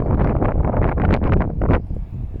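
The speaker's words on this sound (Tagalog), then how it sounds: "Super lakas ng hangin" Strong, cold wind in the Czech Republic roars and buffets the microphone in loud gusts for a couple of seconds, then briefly eases.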